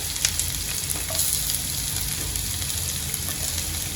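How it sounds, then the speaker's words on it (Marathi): Roughly chopped onions frying in oil for sevai upma, a soft continuous sizzle close by with faint stirring, no talking. "आता मी कांदा जो आहे दोन कापून घेतलेले रफली चॉप करून घेतलेले ते घालून घेते आहे"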